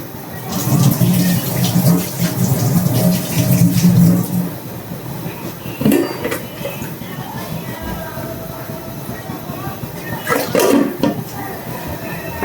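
Water poured into rice being ground into a dough in a home kitchen, a steady running splash that lasts several seconds. Someone talks over it and background clatter is audible.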